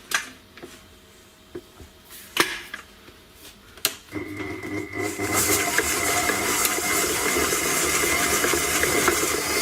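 Electric mixer whirring steadily as it beats granulated and brown sugar together, starting after a few clicks and bumps and running loud and continuous to the end.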